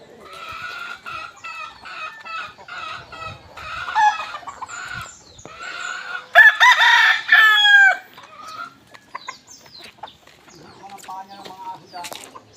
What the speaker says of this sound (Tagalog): tapos na po tayo magpakain at nagpapatukan na tayo ng mga manok